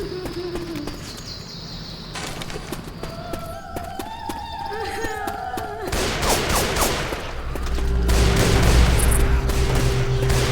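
Gunfire in the Left 4 Dead 2 video game, with bursts of shots turning dense and loud toward the end, mixed with other game sounds and tones.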